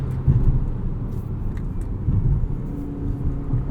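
A 2020 Volvo V60 T8 E-AWD Polestar hybrid drives with a steady low engine rumble and road noise inside the cabin, swelling slightly as the gearbox shifts lazily.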